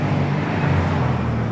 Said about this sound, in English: the rumbling of car engines.